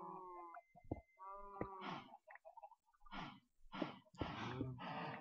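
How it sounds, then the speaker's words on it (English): Several cows in a video game, the Minecraft-style mod series Cydonia, mooing in long, low drawn-out calls, some overlapping, with quieter breathy snorts between them and no talk, set against a quiet background. "Wow. That's a lot of cows in one hole."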